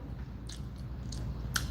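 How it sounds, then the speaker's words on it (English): A person chews food with soft, repeated squishy bites and a couple of sharper crunchy snaps, close up and alone with no talking. "that part you gotta keep chewing and chewing and chewing"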